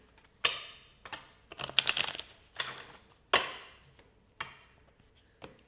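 A deck of tarot-style cards being shuffled by hand, heard as a series of close, crisp riffling bursts and sharp slaps with brief pauses between them, no talking.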